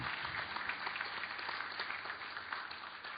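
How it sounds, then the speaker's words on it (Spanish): Congregation applauds a group of helpers, a moderate, even patter of many hands clapping that runs steadily and sounds somewhat muffled and distant, with no one speaking over it. "Damos un aplauso, por favor, a ellos."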